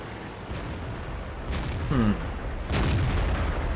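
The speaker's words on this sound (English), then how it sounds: "Aiming a bit, shooting." The T29 tank's cannon fires in World of Tanks, two heavy booming blasts about a second apart over a constant engine rumble, with a short whistling sweep between them.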